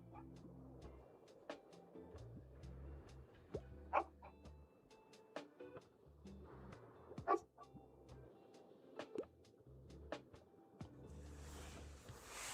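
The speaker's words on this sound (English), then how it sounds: "Gonna pet that dog." A small dog barks repeatedly in the Tiny Book Shop video game, short sharp yaps and yips spaced irregularly over soft background music.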